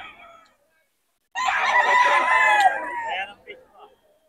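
A young rooster (stag) crows at a poultry market in Bocaue, one clear drawn-out crow of about two seconds, loud and close, with a short fainter call before it.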